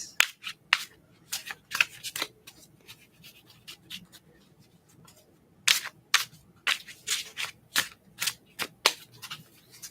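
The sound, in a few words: shuffling tarot cards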